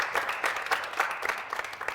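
An audience at a Valentine's Day couples game show claps loudly for the women contestants, with uneven, rhythmic bursts of clapping.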